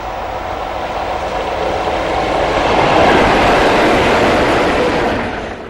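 A classic diesel locomotive hauling wagons on British rail, a loud steady rumbling roar that swells as it passes close by, then eases slightly.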